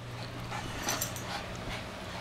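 A dog whimpers and pants in soft, thin whines over a low background hum, fairly faint and close, with no talking.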